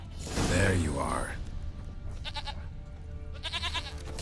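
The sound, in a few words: goat bleating in video game The Witcher 3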